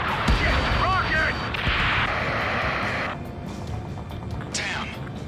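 Rocket fire and explosions in the combat flight game Ace Combat 7, loud broadband blasts and rushing bursts over a steady roar of battle, with radio chatter and voices talking over them.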